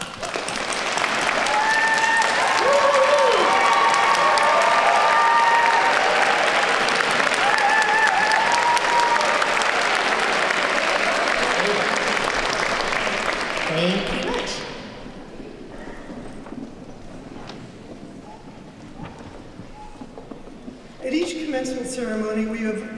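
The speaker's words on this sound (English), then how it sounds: "give them a rousing applause" Sustained audience applause at a university commencement ceremony, loud and dense for about fifteen seconds before thinning out, with voices and a speaking voice emerging near the end.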